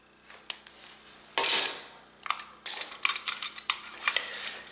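Coaxial TV cable is snipped with cutters, giving a few sharp close clicks and crunches among small handling noises, with no talk.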